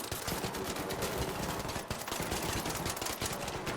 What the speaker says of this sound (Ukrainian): Давай, давай, давай, Макс, стріляй по ньому.